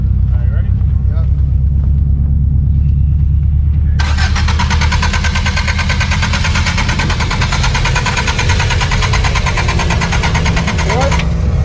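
A Subaru Brat at a car meet cranks over with a rapid rhythmic starter whir, then fires into a loud, rough engine roar that holds steady at close range until it cuts off near the end.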